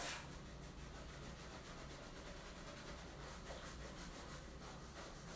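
A horsehair brush buffs a pair of leather shoes in quick, steady strokes, a continuous soft rubbing hiss that stays close and even throughout without pause.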